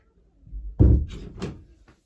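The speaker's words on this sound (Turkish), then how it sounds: "Bir kızıma kapıyı açıp geliyorum ben de." A single door opening close by, with a soft thump followed by a short creak and rattle, heard alone.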